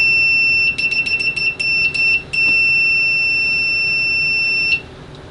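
A Pro'sKit MT-2017N multimeter, fitted with ProMaster test probes, sounds its continuity beeper: a burst of short, loud, piercing beeps, then one sustained shrill tone lasting a couple of seconds before it stops.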